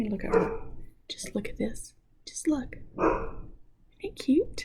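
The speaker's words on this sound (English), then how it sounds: "I need to go see what she's barking at." A small dog barks several times indoors in short bursts spread across the moment, mixed in with someone talking and whispering close by.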